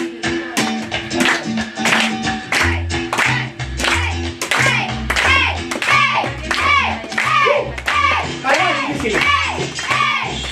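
A live audience at a clown show clapping along in a steady rhythmic beat over loud party music, with brief cheering voices mixed in.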